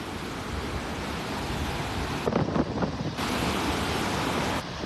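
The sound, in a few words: ocean waves on the beach as the tide comes in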